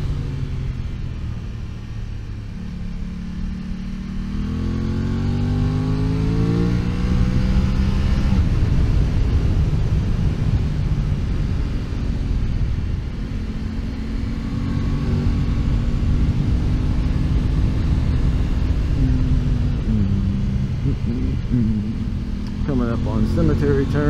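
An Aprilia RS660 sport motorcycle accelerates hard down into a track corner, its engine note rising and falling in loud, continuous harmonic sweeps with steady wind rumble throughout, recorded close from the rider's position.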